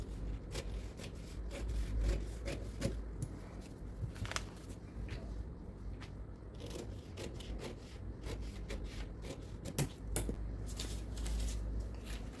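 Scissors snip through fabric while a frock sleeve is cut out, giving a close, irregular series of crisp cuts and rustling cloth over a low background hum.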